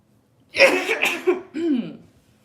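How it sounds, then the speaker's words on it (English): A single loud, explosive sneeze bursts out, followed by a brief breathy trailing sound, close to the listener in a quiet room. "that sneeze felt good"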